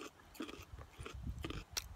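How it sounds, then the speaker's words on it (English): Someone bites into raw Jerusalem artichoke tuber, crisp and crunchy like a carrot, and keeps chewing. Close, moist crunching comes in irregular bursts over two seconds, with a sharper snap near the end and no talk. "They're really crisp and crunchy like a carrot."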